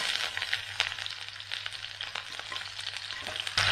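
Onion hits hot mustard oil in a pan and fries with a bright, crackling sizzle, steady and close, with a short louder burst near the end and no talking.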